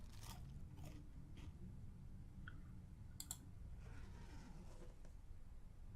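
Crunchy food being eaten in the survival video game The Long Dark, a few close, dry crunching bites spread over a steady low background hum, with no talking.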